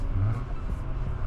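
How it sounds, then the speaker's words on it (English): A tuned Audi A4 B8.5 with a Stage 1 tune pulls hard in second gear from about 40 mph, its engine a loud, steady low drone heard from inside the car. "Second gear, 40 mile an hour pull."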